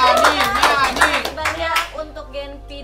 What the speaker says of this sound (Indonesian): Terima kasih banyak, tepuk tangan buat